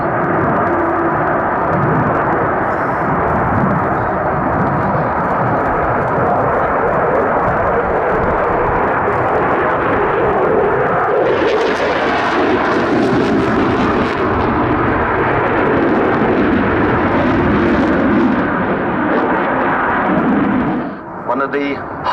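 An RAF Eurofighter Typhoon jet flies a display at Cosford Airshow, making a loud, continuous, roaring jet engine noise with rising and falling surges. A commentator talks over it.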